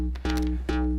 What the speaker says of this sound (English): This is the sound of the envelope.